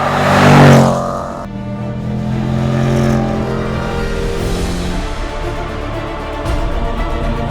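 A 2015 Range Rover Sport SVR engine surges loudly up its rev range, then holds a sustained, powerful roar from close by with no voices over it.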